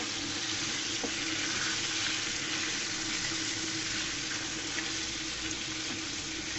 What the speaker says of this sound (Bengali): মাংসগুলোকে আমি সুন্দর করে ভেজে নিব উল্টিপাল দিয়ে।